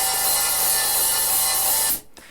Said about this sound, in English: hear the drummer just loosening off his or her foot and getting that sort of trashy open hi-hat sound like this